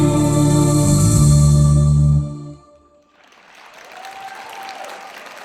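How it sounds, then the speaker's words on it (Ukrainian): Audience applause for the folk song ensemble Plisa at a creative evening: held sung and instrumental notes end after about two seconds, and steady clapping from the hall follows and builds to the end. "Ансамбль Плиса. Ваши аплодисменты."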